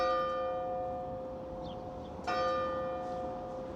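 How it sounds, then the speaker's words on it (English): Church bells ring in Eyemouth, Scotland, a sustained, steady peal with bright ringing tones that carry on throughout, a fresh strike swelling in partway through, heard alone with no talk. "And the bells are going."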